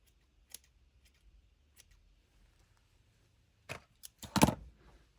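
Scissors give a few faint, scattered snips close by, then a quick burst of sharper, louder cuts near the end, with quiet gaps in between.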